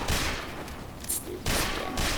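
L'Etranger revolver fired in Team Fortress 2: several loud, sharp shots close by, each with a brief crack and decay, spaced unevenly over a couple of seconds, with no talking.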